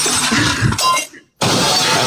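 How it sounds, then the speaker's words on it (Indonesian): A plate shatters with a sharp, loud crash and a burst of scattering shards, then a brief silence before more clatter and noise resumes. "piringnya hancur itu"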